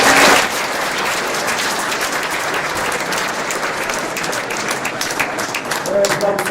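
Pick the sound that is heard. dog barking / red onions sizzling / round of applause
round of applause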